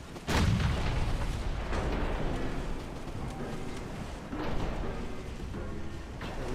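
Nine-inch naval guns firing in the naval battle game Ultimate Admiral Dreadnoughts, deep rumbling booms with heavy low-end blasts rolling over a continuous roar, loud and close.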